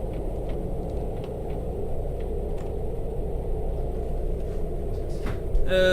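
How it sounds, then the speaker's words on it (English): Low, steady rumbling of a storm in the survival game The Planet Crafter, a continuous dull roar that persists throughout with a brief swell near the end. "there are constantly storms now"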